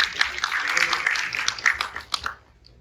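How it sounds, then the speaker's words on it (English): Audience applause breaks out after a call for a round of applause at an entrepreneurship event, a dense burst of clapping that holds steady for about two seconds and then stops abruptly. "Let's have a huge round of applause for them."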